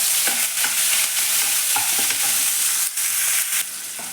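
Chopped onion frying in a pan with garlic and curry leaves, a loud continuous sizzle with brisk stirring scrapes of a spatula throughout, close up with no talking.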